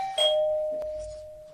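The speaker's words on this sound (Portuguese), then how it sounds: "Os três se chegam até a porta e tocam a campainha." A two-tone electronic doorbell chime, one clear ding followed by a longer sustained dong that slowly decays, alone in a quiet room.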